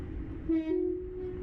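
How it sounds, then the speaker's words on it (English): A London Underground-style tube train in the Roblox game British Railway gives a short, clear horn tone that rises slightly and holds over a low rolling rumble. "Ah, tube train."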